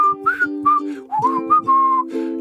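A lively whistled tune imitates the whistle of a perforated nasal septum: clear, bright melodic notes in short phrases with brief gaps, fairly close and alone, with no talking.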